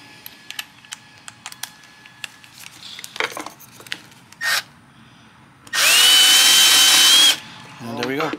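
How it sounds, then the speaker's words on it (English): A countersink bit grinds into a fiberglass speaker panel for an OBS truck, a loud steady whir lasting about a second and a half after scattered light clicks and handling noise, with a shorter burst of drilling near the end. "bust out our countersink"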